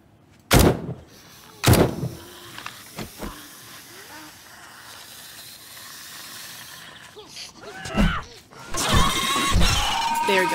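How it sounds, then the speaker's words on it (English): Several sharp gunshots in 7 Days to Die (Darkness Falls mod) fired at a zombie in the woods: two loud cracks early, a few quieter pops, then another burst near the end over a faint hissing ambience. "let's go ahead and shoot him"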